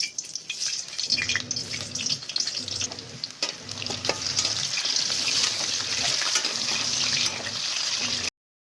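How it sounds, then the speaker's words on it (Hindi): Potatoes frying in hot oil in a home kitchen, a continuous close sizzle with bursts of crackling and occasional stirring clatter. "तो लेकिन पहले मैं आलू तल लूँगी"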